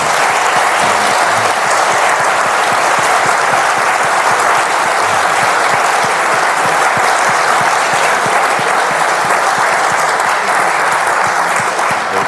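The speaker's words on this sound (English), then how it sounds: "A big round of applause for Michael and Dorothy." Sustained, loud applause from a lecture audience, dense and steady, honouring two people at the close of a public science talk.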